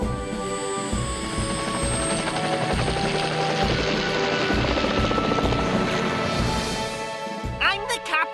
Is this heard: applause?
no